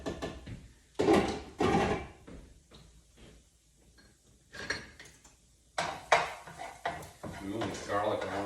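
A metal lid is lifted off a pan of garlicky broccoli and shrimp, and cookware clatters and clanks nearby in several sharp, irregular bursts separated by quiet gaps.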